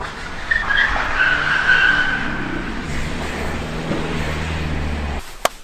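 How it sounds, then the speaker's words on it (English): Tires squeal and skid continuously as a car does donuts in a car park, its engine revving a short distance away, the screech rising and fading before cutting off. "doing donuts in the car park"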